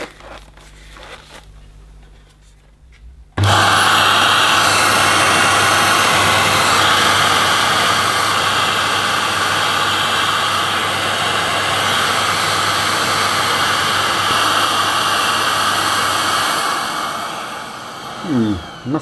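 A Dyson DC15 Animal vacuum cleaner powers up with its turbo head fitted, giving a loud, steady roar with a low motor hum. It runs continuously for about thirteen seconds, then winds down and fades away.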